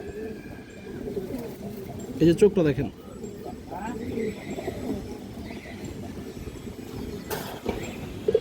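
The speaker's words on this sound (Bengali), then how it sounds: "এই যে দেখেন দর্শক, বাঘা খাকি মাদি কবুতর" A khaki female pigeon coos in low rolling notes, close by, while someone talks over it throughout.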